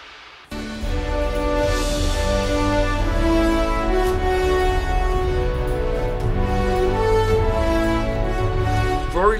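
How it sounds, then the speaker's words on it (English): A soloed tam-tam in an orchestral film score mock-up, struck once then swelling into a long shimmering metallic wash with dense sustained overtones that ring steadily for several seconds. "First, I added the tam-tam that we were talking about."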